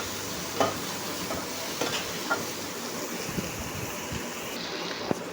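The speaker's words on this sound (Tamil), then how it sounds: "அரிஞ்சு வச்சுட்டு நல்லா தக்காளி ஒரு கிளறி விட்டுக்கிடுவோம்" Chopped tomatoes frying with ginger and garlic for a potato curry, giving a steady hissing sizzle with a few soft scrapes of a spoon stirring through, no voices.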